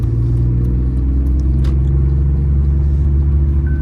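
A BMW E46 330Cd diesel car's deep engine rumble rolls on steadily from inside the vehicle while it drives, loud and constant.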